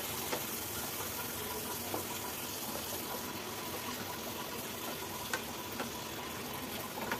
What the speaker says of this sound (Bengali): তখন উল্টে দিয়ে অপর সাইডটাও ভেজে নেব।